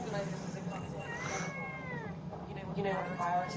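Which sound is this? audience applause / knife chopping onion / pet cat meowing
pet cat meowing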